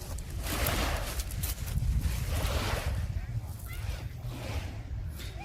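Waves lapping on a fairly large lake shore, a steady washing surge with wind buffeting the microphone, continuous and close.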